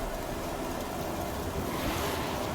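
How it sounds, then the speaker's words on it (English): Steady, roaring wind noise from a sandstorm in the video game Forza Horizon 5 fills the whole clip, a broad rushing hiss, loud and constant with no talking. "Let me get out of this sandstorm."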